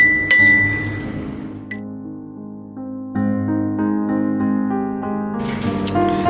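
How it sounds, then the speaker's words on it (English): Metal soup spoon clinking and ringing against a bowl at a dining table, a sharp bright strike followed by several further clinks with lingering resonant tones, close and clear with no talk. "don't make too much of noise with the bowl like this"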